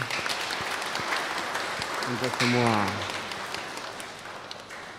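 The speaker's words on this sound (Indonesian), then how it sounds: "Kita tepuk tangan ya" Congregation applause at a Christmas Eve vigil mass: continuous clapping runs throughout at moderate level while someone speaks briefly over it midway, then the clapping carries on and thins slightly.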